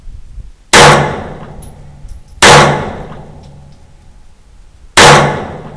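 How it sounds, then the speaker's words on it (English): Three loud, evenly spaced handgun shots from a concealed-carry pistol, each with a sharp crack and a ringing clang off a steel target, then a fading tail before the next. "I shoot this gun pretty well"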